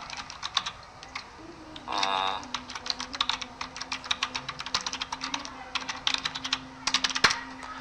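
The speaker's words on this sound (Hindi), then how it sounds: "जैसे कि विंडोज का एक कमांड मैं लिखता हूँ" Someone types a Windows command on a computer keyboard: a close, steady run of crisp individual key clicks at an uneven pace, with a short louder clatter partway through.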